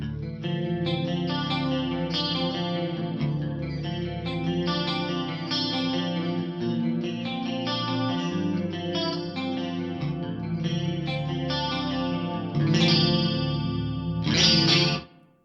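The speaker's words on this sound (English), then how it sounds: "I'm just kind of going for a little bit of 80s worship on here, a big greasy clean." Clean electric guitar through an FM9 amp modeler, a big 80s-style clean tone with a shimmering chorus effect, notes and chords ringing continuously, ending with a brighter swell before fading out.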